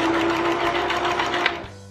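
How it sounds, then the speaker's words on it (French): Sewing machine stitching a backstitch in reverse on washable fabric wipes, a steady close motor whir with fast needle rhythm that stops abruptly near the end. "en machine à coudre on fait un point d'arrêt"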